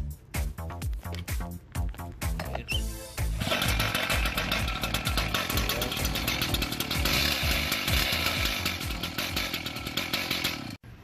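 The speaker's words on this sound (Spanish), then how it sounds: "Entonces pues nada más lo ponemos simplemente en encendido y le vamos a dar sus tirones" A Stihl 420 concrete cut-off saw is pull-started with a few rapid cord tugs, then catches and roars into a loud, steady two-stroke drone that runs on alone.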